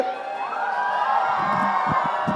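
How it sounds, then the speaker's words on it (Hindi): An audience at a film trailer launch for Kartik Aaryan and Kriti Sanon cheers and whoops for the team. The shouts are bright and loud, with scattered claps and a rising crowd roar. Voices call out throughout. "एक बार जोरदार तालियां हो जाए इस टीम के लिए"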